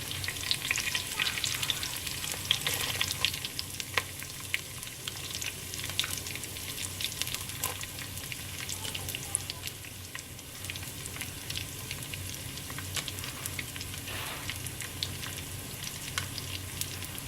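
Curry leaves crackle in hot oil in a pan for crab rasam, a dense rain-like sizzle that stays steady and fairly faint for a long stretch, close up with no talking.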